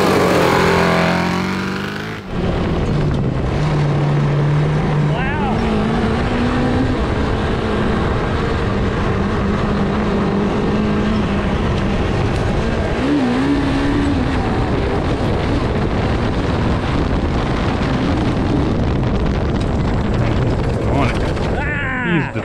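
A 750cc cross kart races flat out around a track. Its engine roars loudly and continuously, the pitch climbing and wavering as it speeds through the run.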